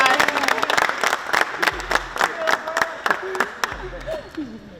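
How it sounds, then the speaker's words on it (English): A group gives the staff a round of applause, a burst of distinct, fairly close claps mixed with crowd noise and a few cheers while people keep talking throughout. "Let's give our staff a round of applause"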